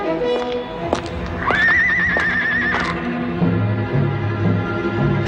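A horse lets out a loud, long, wavering whinny, with thuds and hoof clip-clops around it, in a cartoon.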